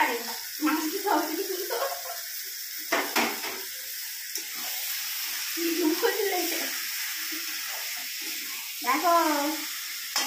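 Meat sizzles in a hot pan in a home kitchen with a steady soft frying hiss, broken by scraping stirs and clinks of a utensil, while someone talks throughout.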